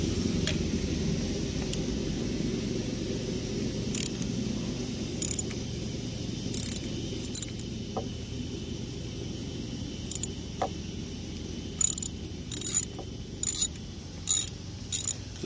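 A ratchet loosens an 11 mm bolt on a 1996–2001 Dodge Ram 1500 5.9L 46RE transmission, giving close, short bursts of rapid clicking separated by pauses over a low background hum.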